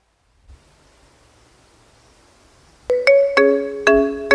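After a short silence, a phone ringtone starts up loud and close, repeating in a bright chiming melody of quick successive tones.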